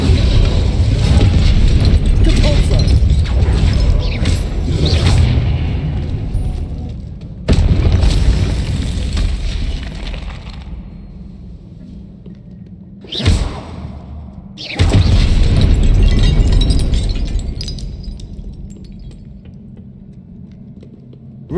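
Fire spell blasts cast in Hogwarts Legacy gameplay, loud booming whooshes and bursts layered over a dense game soundtrack, with a sharp short crackling burst standing out midway before the busy combat sound resumes.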